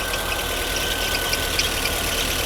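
A Mercedes-Benz W126 280SEL engine idles steadily at close range during an engine test, a constant hum with a faint whine and slight rough pulsing.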